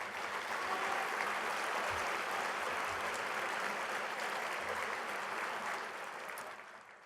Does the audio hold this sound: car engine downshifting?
no